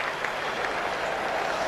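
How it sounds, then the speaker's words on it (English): A cricket crowd at an India vs Pakistan one-day international applauds a boundary, a steady, moderately loud ripple of clapping that holds evenly throughout. "I can hear a ripple of applause there."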